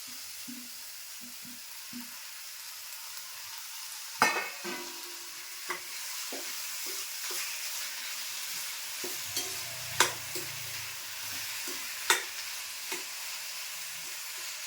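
Tomatoes sizzling softly in a pan for a spicy chutney, with a spoon scraping and stirring in a few sharp clicks and knocks over a steady low fry.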